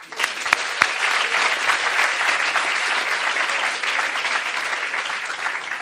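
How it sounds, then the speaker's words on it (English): Sustained applause from a graduating class at a commencement ceremony in Europe, broad and steady throughout at a constant level, with no talking over it. "Give yourself a round of applause."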